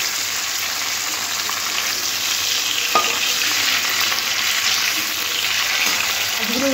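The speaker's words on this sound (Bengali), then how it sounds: "উল্টে দেবো মাছগুলো, একদম লাল করে ভাজার দরকার নেই" Hilsa fish pieces frying in a pan and being turned over, a steady loud sizzle with a faint scrape as they are flipped, no voices.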